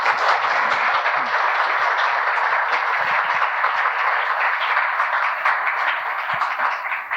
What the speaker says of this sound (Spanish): un aplauso para nuestro autor